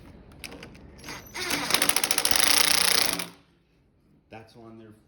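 A ratchet driving a 5/16 socket to tighten a screw on a Husqvarna snow blower, heard as a rapid, loud buzzing clatter of clicks for a couple of seconds, close up, followed by brief talk.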